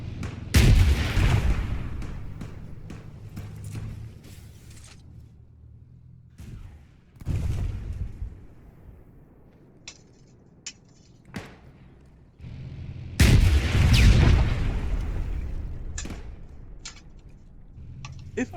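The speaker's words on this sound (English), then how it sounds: "it sounds like the AI is also firing RPG rounds at it as well" Explosive booms and gunfire from RPG rounds and small arms in the ARMA 3 military video game, with loud heavy blasts near the start and again around the middle, scattered sharp shots in between.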